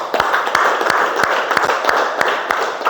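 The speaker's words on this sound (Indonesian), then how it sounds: "Tepuk tangan untuk kita semua." A class claps together during a teaching practice lesson, close and fairly loud, with sharp individual claps in a loose rhythm over a wash of group clapping.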